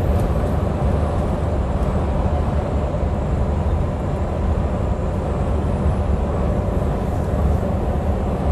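A heavy fuel tanker truck passes on the BR-101 highway in Rio de Janeiro state, a loud continuous rumble of engine and tyre roar, close and steady without a break.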